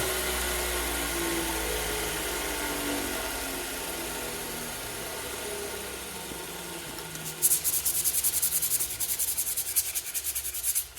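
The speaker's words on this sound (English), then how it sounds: "I'm going to hit it with some hand sandpaper just to clean it up a little bit more" A handmade railroad spike tomahawk being hand sanded with sandpaper to take off hammer and tool marks, a steady close rubbing scrape that grows louder and more rhythmic in the last few seconds, with no talking.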